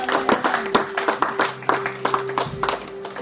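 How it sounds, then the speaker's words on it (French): Church congregation at a Pentecost service clapping for the choir: quick, irregular hand claps, fairly close and lively, with a sustained hum and cheering voices underneath. "Non, ces acclamations sont trop fortes."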